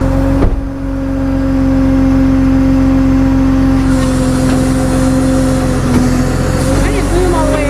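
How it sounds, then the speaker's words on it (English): A tow truck engine runs loud and close, a heavy steady drone with a sustained tonal hum that holds throughout, rising slightly toward the end. "Getting you a tow truck."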